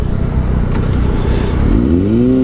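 A car driving through traffic gives a steady loud engine and road rumble throughout, with a rising whine toward the end as the vehicle accelerates to merge.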